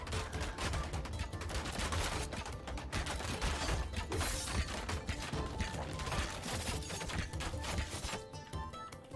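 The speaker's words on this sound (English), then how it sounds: "I forgot I have the gas cannon." A gas cannon fires in a medieval-style strategy video game, a dense, continuous barrage of booming blasts and mechanical clatter lasting several seconds and fading near the end.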